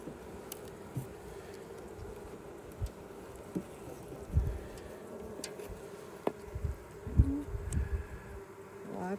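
Honeybees buzz steadily around an open hive during an inspection, a dense continuous hum with occasional louder passes of individual bees close by and a few soft knocks of handling.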